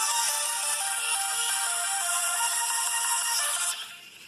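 A Coolpad E502 phone speaker plays a tinny, rattly ringtone melody loudly and continuously, then cuts off abruptly near the end, leaving faint background.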